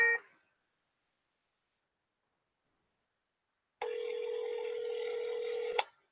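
A short telephone tone at the start, then a few seconds of silence, then a steady electronic ringback tone lasting about two seconds from a phone call placed on speaker.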